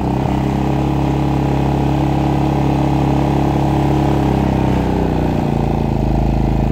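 Maxpeedingrods MXR 3500 watt inverter generator running outdoors, a loud, steady close engine drone with constant hum and a slight shift in tone near the end.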